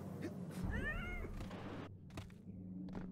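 A cat in the video game Psychonauts gives a clear, drawn-out meow with a rising-falling tone, then shorter faint mews over a low game background hum.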